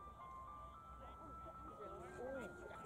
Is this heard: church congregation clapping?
no